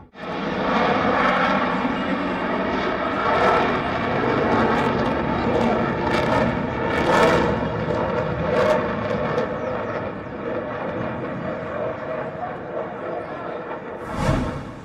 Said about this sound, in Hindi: भारत के निर्मित यानी स्वदेशी एयरक्राफ्ट विमान की तेजस का करतब